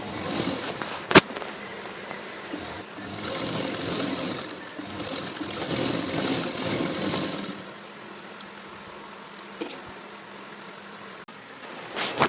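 A sewing machine stitching the frill of a girl's long frock dress whirs steadily for about seven seconds, then stops and leaves a few faint clicks and handling noises.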